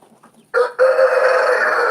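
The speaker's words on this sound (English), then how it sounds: "Guys, see our hens?" Hens on a small farm give a loud, close, drawn-out cluck and crow-like call, starting with a short burst, then a sustained squawk that fills the rest of the moment.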